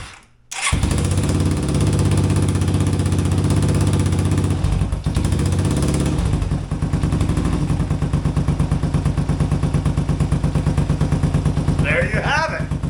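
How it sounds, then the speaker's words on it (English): A three-wheeler's small engine idles steadily and loudly after a brief start-up, its low chugging rhythm running continuously with a faint clatter near the end. "So, she's idling on her own"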